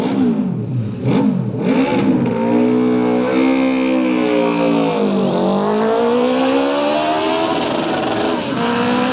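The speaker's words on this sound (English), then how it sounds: "Listen to the thrum of that four-cylinder 500cc engine." A four-cylinder 500cc motorcycle engine thrums loudly, revving up and down with rising and falling pitch as it races past close by, on a road-racing course.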